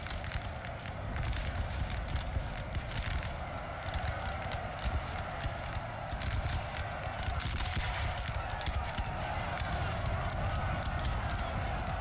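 Massed musket volleys crackle across a Napoleon Total War battlefield, dense overlapping gunshots rattling steadily for several seconds over a constant roar of battle, moderately distant and unbroken.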